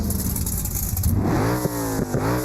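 A car engine in the BeamNG driving game revs up toward a high rev limit around 7800 RPM, first a steady hum, then rising and falling rev sweeps with brief dips between, loud and alone.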